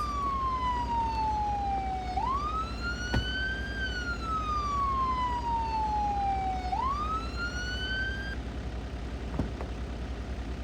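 An emergency siren wails steadily up and down in long sweeping cycles over a low engine rumble, loud and nearby, with no talking.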